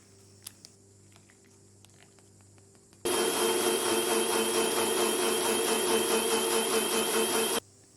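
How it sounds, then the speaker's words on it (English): Mixer grinder blending mango pudding mix of bread, eggs, cardamom and milk: a loud, steady whirring grind switches on abruptly after quiet kitchen clinks and runs for about four seconds before cutting off. "Pour rest of the milk and grind."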